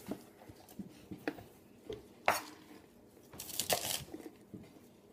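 Knife slicing asparagus spears into 1-inch pieces on a board, with a series of crisp chops and taps spaced irregularly, a couple of louder cuts near the middle and end, close and fairly quiet.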